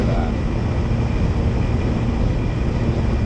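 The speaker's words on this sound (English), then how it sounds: "We've got a real plane above us." A twin-engine airplane passes overhead near a model-airplane flying field, a steady, loud broadband engine drone that stays even throughout with no voices.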